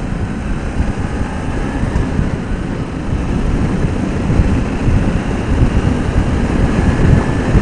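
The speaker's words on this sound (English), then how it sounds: "I'm going into the wind now." Heavy wind buffeting a motorcycle rider heading into the wind, with the 4-inch visor removed: a loud, steady roaring rush with a low rumble, continuous and close to the microphone.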